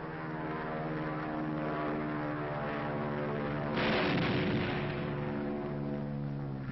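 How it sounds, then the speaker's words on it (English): A propeller-driven attack aircraft drones steadily overhead while dropping bombs on a dummy target on a bombing range, with a loud broadband blast surging over the engine hum midway and fading back to the drone. "the pilot shoots his bombs into the target and takes evasive action"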